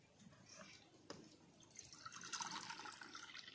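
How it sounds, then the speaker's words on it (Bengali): A bowl of water is poured onto sugar in a pan to start a syrup for a semolina sweet, giving a soft, close splashing and trickling that swells toward the end, with a voice faintly present. "এর মধ্যে আমি 1 বাটি জল দিই।"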